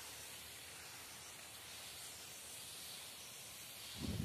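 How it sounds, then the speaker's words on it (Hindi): A sprayer pushes herbicide over a maize field in a steady, broad hiss that runs unbroken at close range, with a brief louder rustle at the end. "तो इस पर हम स्प्रे करते हैं इस तरह आपको सभी एरिया में स्प्रे कर लेना है"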